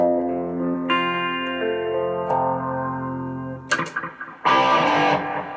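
Electric guitar with heavy distortion playing the chords of a song, sustained ringing chords that shift twice, then a few choppy strums and a final loud crashing chord, all played alone.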